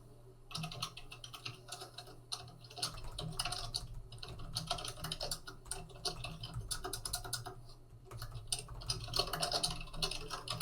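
Fingers type steadily on a computer keyboard while filling in and tabbing through fields of an office form, a close, continuous rapid clatter of keystrokes with only brief pauses.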